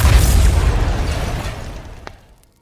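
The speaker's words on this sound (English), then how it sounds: "the energy creates a huge explosion" Huge explosion sound effect: a loud, deep rumbling blast already underway that slowly decays over about two seconds, with a small crackling pop near the tail before fading to silence.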